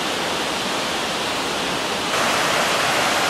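Awamata Falls in the Yoro Valley roars in a steady, dense wash of rushing water, loud and constant throughout, with no voices.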